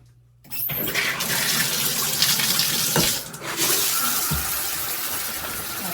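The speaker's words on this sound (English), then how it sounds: "So I'm gonna put the water on." A HOPOPRO high-pressure shower head with nine spray settings turns on after a brief silence, then runs as a strong, steady rushing spray, close and loud, with a short dip in intensity midway.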